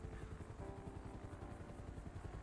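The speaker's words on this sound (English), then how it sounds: "Bro, they fucking brought a helicopter in here." Police helicopter in a GTA roleplay video game, its rotor thumping steadily and continuously as a faint, even drone with no talk.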